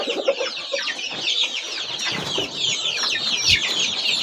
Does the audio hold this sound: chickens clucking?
yes